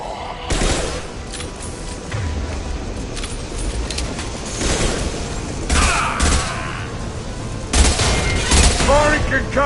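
A heavy weapon in Mass Effect 2 fires in repeated loud booming blasts, with sharp bursts standing out at intervals over constant combat noise and a few short spoken lines.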